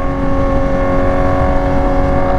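Steady loud engine drone with sustained tonal whine from many motorcycles passing on a road, heard continuously with no speech.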